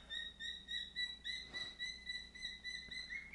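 A pet bird chirps in a fast, repeated run of thin, high, pulsing trills with brief pauses between bursts, faint and steady against a quiet background.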